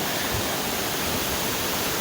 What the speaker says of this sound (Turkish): Yan taraftan Fol Deresi akıyor. Şırıl şırıl.